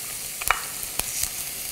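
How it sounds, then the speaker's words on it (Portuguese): Crushed garlic sizzles steadily in a hot pan for a leek risotto, a close, continuous frying hiss with a few small pops and stirring clicks. "Eu vou botar o alho também para colocar o alho."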